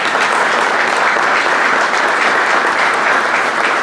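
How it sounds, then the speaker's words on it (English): Dense, steady applause fills a reception hall for the Agriculture Industry Reception, the crowd clapping loud and continuous throughout with no break or voices on top. "Let's give a great round of applause to the Canadian Association of Petroleum Producers"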